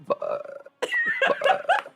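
A person imitates a burp with their voice, a short croaky belch followed by longer gurgling, drawn-out burp noises, close and fairly loud.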